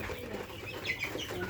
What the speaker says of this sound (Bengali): আজকে আর কিছু মুরগি তুললাম